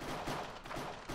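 Rapid gunfire in a Minecraft cops and criminals game, a dense, steady stream of shots close and continuous through the short stretch, with no talking.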